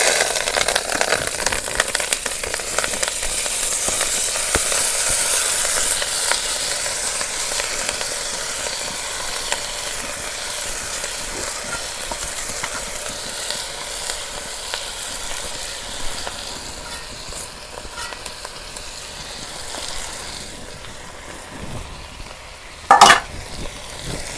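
Biryani rice frying in hot oil with garam masala, a loud, continuous sizzle close by with the rustle of grains being stirred, easing slightly over time before a brief sharp clatter near the end.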